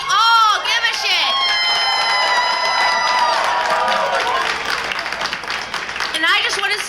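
Crowd at a May Day rally for worker and immigrant rights cheering, whooping and applauding loudly and steadily throughout, with shrill high voices rising over the clapping.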